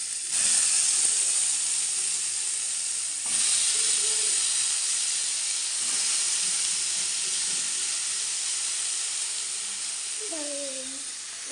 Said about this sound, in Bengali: কড়াইতে ফার্স্টেই দিয়ে দিলাম কালো জিরে, তারপর দিলাম আলু এবং গাজর